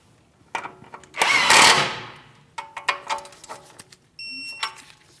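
Ratchet and wrench clicks come from snugging and torquing an outer tie rod end nut on a 2016–2025 Chevrolet Malibu, heard as a burst of sharp metallic ratcheting followed by several short clanks and taps, close and clear.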